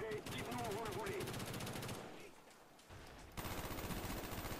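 Automatic weapon fire in the shooter game Call of Duty: Black Ops on PC, loud rapid bursts of shots with a brief lull between them, mixed with a speaking voice and game sounds.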